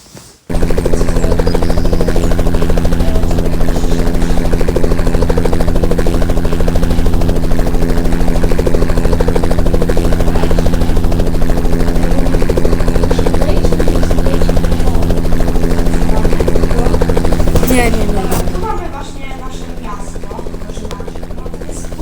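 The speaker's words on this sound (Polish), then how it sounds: "Jest ich helikopter. No i leci." A helicopter in a car video game flies over an island with a loud, continuous rotor drone and engine whine that holds steady, then thins out near the end.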